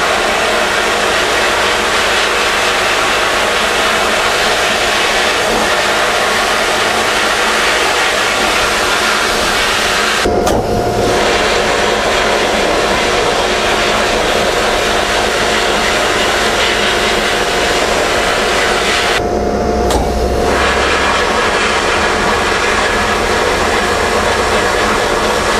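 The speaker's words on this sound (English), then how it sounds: "that's been our Redline REPP70 second gen Redline pressure pot blasting cabinet" A Redline REPP70 second-gen pressure pot blast cabinet blasts old rusty hinges with crushed glass, a loud continuous hissing roar with two brief pauses where the air flow stops.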